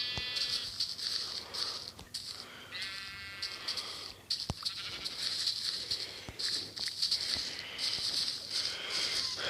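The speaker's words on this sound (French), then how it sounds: "Oh, un petit mouton bleu." Blue sheep bleating in Minecraft, two wavering bleats in the first few seconds over a busy background of clicks, rustles and ambient game noise.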